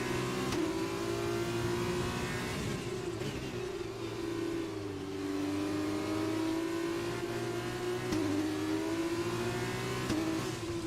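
A Formula 2 car's engine revs hard at Austria in F1 2020, screaming continuously and loudly with the pitch sweeping up and down through gear changes and no upshift, alone without talk.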